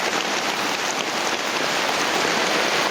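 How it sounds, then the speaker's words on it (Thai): Steady rain falls near a cave entrance, a dense, even hiss that fills the clip without pause or voices. "ฝนตกลงมาอีกแล้ว"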